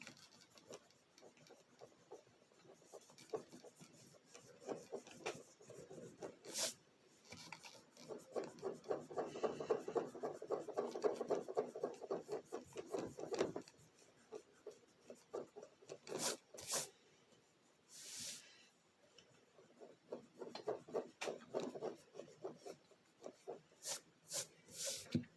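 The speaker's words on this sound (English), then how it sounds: "Let me grab my clean eraser" A clean eraser rubbing back and forth on paper during a story cover drawing, soft repeated scratchy strokes up close, swelling to a steadier stretch midway, with a few sharper clicks between.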